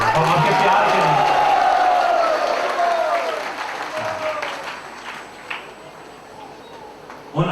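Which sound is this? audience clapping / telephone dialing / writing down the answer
audience clapping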